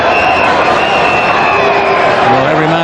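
A large cricket crowd cheers and roars continuously during the 1992 World Cup semi-final between Pakistan and New Zealand, a loud, dense wall of voices with a rising swell near the end.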